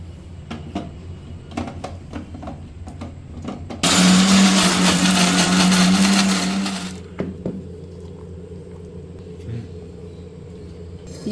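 A mixer grinder runs in one loud, steady burst of about three seconds, blending a cooled roasted chutney mixture with soaked tamarind and salt for kaasi aku chutney, then stops, with quiet kitchen sounds before and after.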